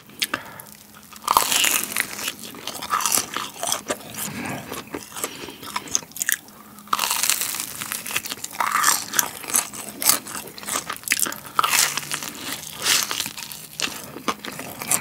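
Sesame-seed hotteok, a sweet Korean filled pancake from a neighborhood snack shop, is bitten and chewed close to the mic, with repeated crisp crunching bites and steady mastication throughout and no talking.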